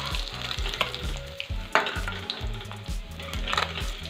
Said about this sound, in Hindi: इसी तरह से हम सारे फिश को फ्राई कर लेते हैं।